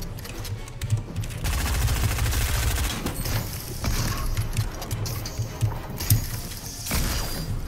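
Pump shotgun fire in the Fortnite video game, with a burst of rapid loud firing mixed among game mechanism clicks and clatter, followed by further scattered shots and action noise with no talk.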